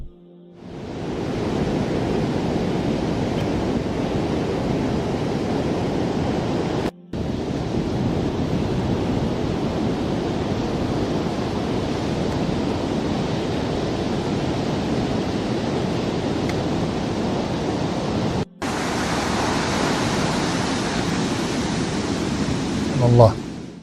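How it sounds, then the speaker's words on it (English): Sea waves and foaming surf roar as a continuous, loud wash of noise, broken by two brief cuts of silence between segments. "Watch this short clip, inshallah ta'ala, to give us an idea of the foam of the sea."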